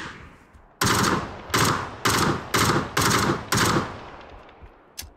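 Loud, close SMG fire in PUBG comes as six separate automatic bursts, each a sharp, ringing volley with brief gaps in between, followed by a single faint shot at the end.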